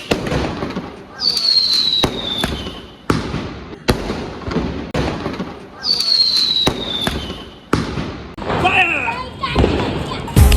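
Diwali firecracker shots and Arabian Nights fireworks bursting outdoors, a rapid series of loud sharp cracks and bangs with whistling rises, while people talk and shout excitedly throughout.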